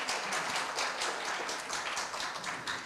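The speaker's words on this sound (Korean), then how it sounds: "큰 박수 부탁드립니다." An audience at a Korea University campus startup demo day claps in a dense, continuous ripple of applause, loud and close throughout the short stretch, with no voices over it.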